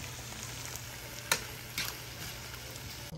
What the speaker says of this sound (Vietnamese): Bên đây mình đang kho nồi gà, kho gừng